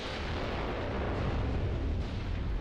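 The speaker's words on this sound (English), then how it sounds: "At least our artillery is on point." Artillery fire and explosions in the video game Mius Front, a dense, continuous rumbling roar of distant blasts blending into one heavy wash of noise, with no voices.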